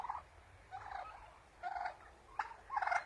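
An adult male turkey gobbles in several short rattling bursts, fairly faint against a quiet farmyard background with pauses between calls.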